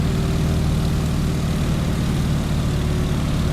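A Stearman biplane's engine and propeller in the game Microsoft Flight, set to cruise throttle with the propeller pulled back, give a loud, steady, close droning roar that holds without a break, with no voices.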